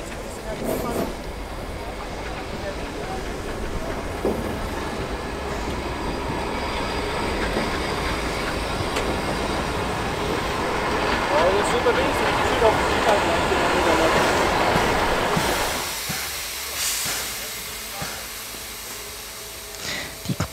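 Steam locomotive 01 0509-8 rolls into a station during a station festival at Putbus, a steady rumble of wheels and rail clatter swelling as it draws close, with brief squeals, then quieting to a lower idle near the end; no one talks.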